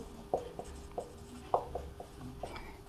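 A pen writing a maths solution by hand on paper, a few close scratchy strokes and taps in an uneven rhythm, faint and alone.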